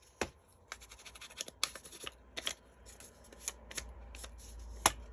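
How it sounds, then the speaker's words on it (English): Small scissors trimming the edges of 6x6 scrapbook paper for vintage Christmas cards, a series of close, crisp snips and paper rustles, with one sharper cut near the end. "There's my little scissors. Just want to kind of take off the little sharp"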